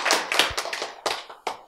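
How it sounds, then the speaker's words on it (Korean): An audience claps at a Korean lecture on vegetarian diet, a short burst of bright, uneven handclaps that swells and fades in a few quick waves, with no talking. "그런 하나님에게 박수"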